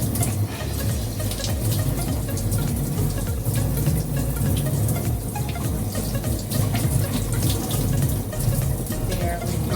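Peppers are rinsed under a running kitchen tap, a loud, continuous gush of water splashing into a sink throughout with no speech.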